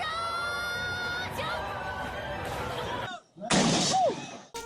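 An explosion spell in the Miitopia video game, heard as booming, crackling bursts layered with game music and effects, followed by a brief drop and then a bright, loud blast with a swooping tone.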